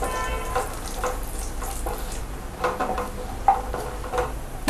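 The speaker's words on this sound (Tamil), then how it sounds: "இப்போ நல்லா முந்திரி ஃப்ரை ஆயிடுச்சு" Cashews fry in a pan for moong dal payasam, a soft continuous sizzle with occasional light stirring scrapes and clicks, close and low in level.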